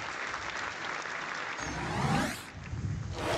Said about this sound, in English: Thunderous applause there for that one, Happy.